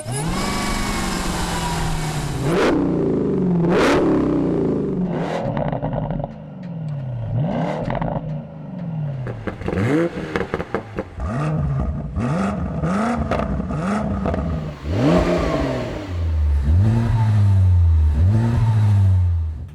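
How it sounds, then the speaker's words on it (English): A Ford Mustang's loud performance exhaust revs hard again and again, rising and falling in sharp bursts with crackles between, the engine roaring close by. "this thing has got exhaust sound and then some"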